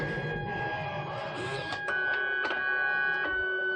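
A Fargo HDP card printer runs its self-test print with a steady mechanical whine and tonal hum, broken by a few short clicks and clunks of the card feed.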